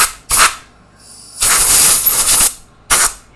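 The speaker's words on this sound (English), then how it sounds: "I actually have a compressor by my desk. That way I can just grab this air" A compressor air hose fires short blasts of compressed air at a phone's USB-C port, loud hissing bursts: one brief puff, a longer sustained blast, then another quick burst, close to the mic with no talking.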